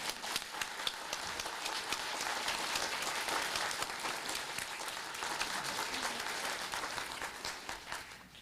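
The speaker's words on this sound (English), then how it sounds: "we're going to give you a special round of applause right now." Steady, full round of applause from an audience at the Clear Lake Integrated Science Symposium, dense and continuous throughout with no voices on top, tapering slightly at the end.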